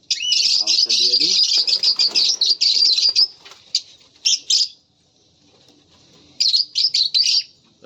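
Pet birds chirp and tweet busily during feeding time with chickpeas, a dense run of high, rapid calls with wing flutters, then a pause and a few more short bursts of chirping.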